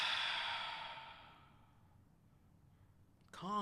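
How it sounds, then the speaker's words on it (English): A single long, deep exhaled breath, soft and close, fades into quiet, and a voice begins to speak at the very end. "Just close your eyes and take a nice deep breath"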